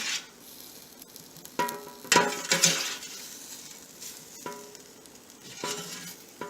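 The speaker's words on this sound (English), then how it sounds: "You can hear it sizzling." Food sizzles and crackles close by in an 1800W 5.8-quart electric air fryer, with a few clinks and scraping stirs of utensils against the basket.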